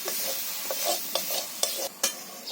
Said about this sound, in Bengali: এই মশলা চিংড়ি মাছগুলো কিন্তু ভালো করে কষিয়ে নেবো আর একেবারে ভালো ভাজি করে নেবো।